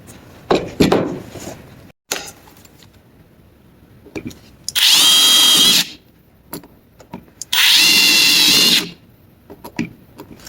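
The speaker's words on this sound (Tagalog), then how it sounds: "So ito na po yung screw na gagamitin natin. Iatas lang natin to sa ating drill." A power drill drives a screw into backer board during rough construction of a half bath, two loud steady whirring bursts of about a second each, separated by quieter handling clatter and knocks.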